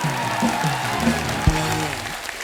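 Applause and crowd noise from a TV comedy talk show studio audience rise together, sustained and fairly loud, with musical tones mixed in underneath.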